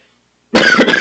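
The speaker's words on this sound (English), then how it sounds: "Coughing in the mic." One sudden, close cough right into a microphone, after a short stretch of near silence.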